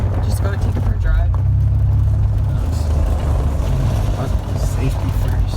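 A Ford Mustang 5.0 drives with a deep, steady engine rumble close by, holding a constant drone for several seconds while voices talk over it.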